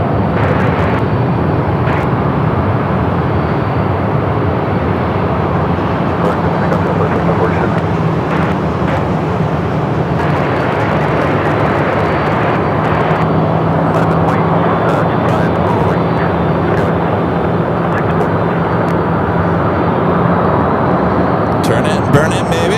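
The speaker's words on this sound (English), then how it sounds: "This aircraft heading to Oklahoma City" Boeing 737-700 jet departing Phoenix Sky Harbor airport, a loud, steady broadband engine roar that holds throughout with little change, with faint talk mixed in.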